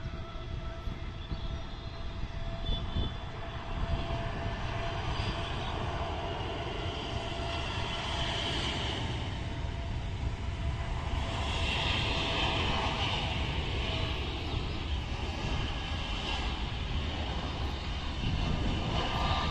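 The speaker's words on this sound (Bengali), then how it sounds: "সৌদি আরবের দাম্মামের উদ্দেশ্যে উড়ে যাবে। Boeing 787 dream liner." A Biman Bangladesh Boeing 787 Dreamliner departing for Dammam, its engines a continuous loud roar that holds steady throughout, with no talking.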